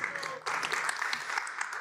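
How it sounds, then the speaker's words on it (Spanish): A burst of audience applause at an education conference, dense clapping that swells briefly, with a voice speaking over it. "Un aplauso para ella también, por favor."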